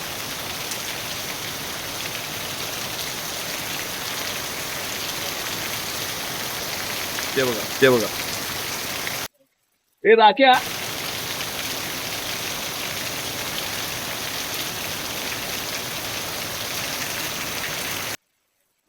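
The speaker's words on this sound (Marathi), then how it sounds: "मस्त पाऊस चालला बघा" Steady heavy monsoon rain pours in the Konkan countryside throughout, with a brief voice calling out partway through and a short drop-out before the downpour resumes.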